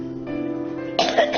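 A woman with a worsening, months-long cough linked to acid reflux gives a short, harsh cough burst near the end, after a quiet stretch with a low steady tone underneath.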